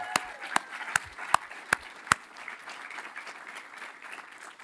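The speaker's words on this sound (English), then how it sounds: "So let's give them another round of applause as well" A graduation ceremony crowd applauds graduates' loved ones in a spread-out, moderately faint clapping wash, with several sharp, distinct close claps standing out in the first half before the sound settles into a softer, even patter.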